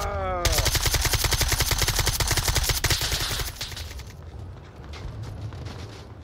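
A video game automatic weapon fires a loud, rapid, sustained burst of gunshots for about three seconds, then a rumbling tail with distant scattered shots follows.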